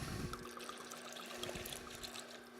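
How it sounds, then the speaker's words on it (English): Rum poured from a bottle into a fresh coconut and pineapple piña colada, a faint, close trickling stream lasting a couple of seconds. "So now we're going to give a healthy shot of rum."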